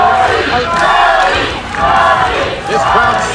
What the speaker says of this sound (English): This crowd solidly behind Robbie Page